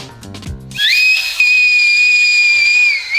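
After a short burst of music, someone whistles a long, loud, high sustained note that holds steady for a couple of seconds.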